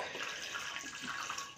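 Vinegar poured from a bottle into a glass while preparing a marinade for pickled eggplant, a continuous close splashing trickle with no talking.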